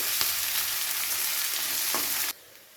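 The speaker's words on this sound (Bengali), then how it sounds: "এবারে পেঁয়াজটাকে একটু সময় নিয়ে ভেজে নিতে হবে ভালো করে।" Onions sizzle steadily in hot oil, a loud continuous frying hiss with a couple of soft stirring knocks, then it cuts off abruptly.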